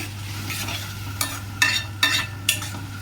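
Curd being stirred into mushroom and brown rice pulao in a pan: a few soft scraping strokes of the spoon stand out over a low steady hum, with no voices.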